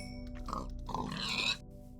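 Pigs oink and grunt in the Minecraft video game, a few short snorting calls in quick succession, fairly close and clear, with no talking.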